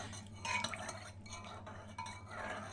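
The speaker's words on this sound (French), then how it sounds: "Ça va aider à mélanger le miel" A spoon stirring honey and lemon into hot boiled cinnamon water, soft repeated clinks and scrapes against a cup, faint and close, over a low steady background hum.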